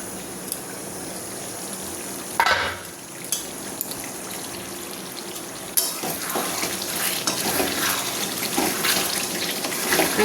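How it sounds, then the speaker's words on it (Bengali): Pressure-cooked mutton is braised in oil in a pan for a yogurt curry, a steady, close sizzle broken by a few sharp scrapes of stirring. "অনেকটাই আমার মাংসটা কষানো হয়ে গেছে, আরও একটু কষিয়ে নেব।"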